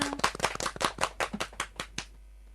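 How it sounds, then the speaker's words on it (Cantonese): A short burst of brisk, close hand claps from a few people for a singer in a radio studio, roughly a dozen sharp irregular claps over two seconds before quick silence. "我哋俾啲掌聲啊！"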